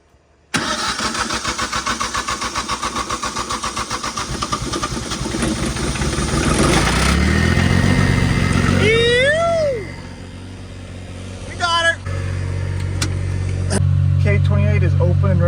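A farm irrigation engine on a cornfield cranks and fires up, settling into a loud, steady mid-pitched running rumble with a brief dip and surge; a voice speaks over it.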